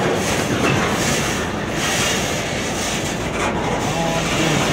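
A slow Norfolk Southern freight train rolls past in Columbus, Ohio, its wheels and cars making a steady, loud rumble with faint clanking throughout and no talk.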